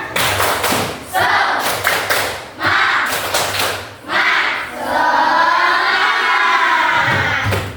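A school class does the tepuk semangat spirit clap, with loud, close bursts of patterned hand claps in quick groups broken by children's voices calling out together, ending in a longer stretch of shouted chanting.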